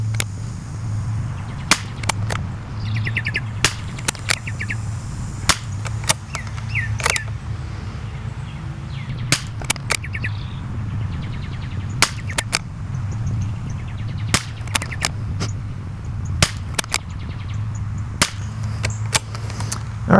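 Pistol shots at an outdoor range, sharp cracks fired at an irregular pace, some single and some in quick pairs, ringing out over a constant low rumble of wind and background noise, with no talk.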